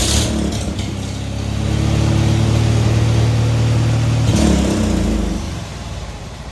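A Farmall M tractor engine runs close by with a steady low throb that swells in the middle and then shifts pitch and fades slightly.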